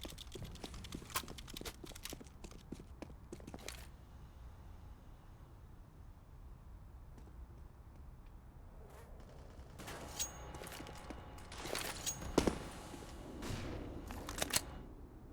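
Counter-Strike gunfire with pistols and rifles during a competitive match on the Overpass map: bursts of sharp shots in the opening seconds, a quieter middle stretch, then renewed clusters of firing and impacts toward the end.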